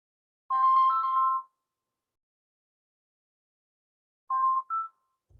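A mobile phone goes off in a quiet room with two bursts of electronic ringtone, a longer melodic trill followed after a pause by a shorter two-part chirp, and nobody talks over it.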